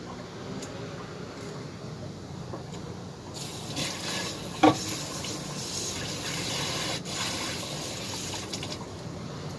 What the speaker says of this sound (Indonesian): Ada bawang putih dan daun bawang, saya cuci terlebih dahulu ya.